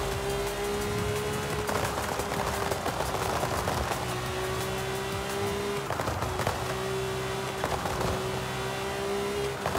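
A Lamborghini in Forza Horizon 5 holds a steady high engine drone at speed, its pitch dipping slightly and climbing again with brief gear-shift breaks, loud and continuous, with faint tire noise and no speech.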